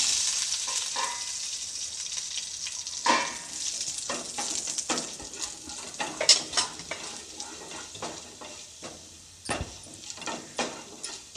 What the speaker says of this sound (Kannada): ಇದನ್ನು ಚೆನ್ನಾಗಿ ಫ್ರೈ ಮಾಡ್ಕೋಬೇಕು ಅದು ಬ್ರೌನ್ ಕಲರ್ ಬರೋವರೆಗೂ